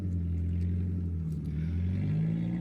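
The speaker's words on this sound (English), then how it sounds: "So of course this is pretty loud because there's no, silencers or anything on the exhaust at the moment." A Ford Escort Mk6 with a 1.6 Zetec engine idles loud and steady through an exhaust with no silencers fitted, a deep continuous drone with a low throbbing pulse that holds without a break.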